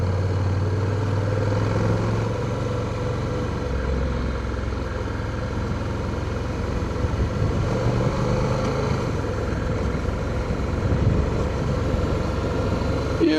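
Honda CTX motorcycle engine braking after a downshift on a slow curve, a steady low engine drone with road and wind rumble running continuously throughout.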